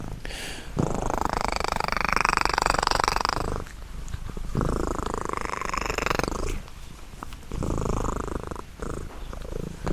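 A contented cat purrs close by in a steady, continuous rumble that swells and eases in long breaths, with short pauses between them.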